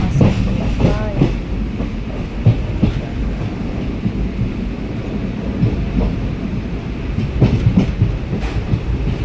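A train arrives at a station on the Mysore–Hasan line, giving a loud, close rumble with rhythmic wheel clatter and brief squeals. Faint background voices come through in places.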